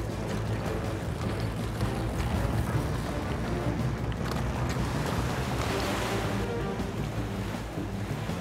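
Open-sea waves in an animated cartoon: a continuous loud wash of surf and wind, rolling and rumbling throughout with no clear pauses.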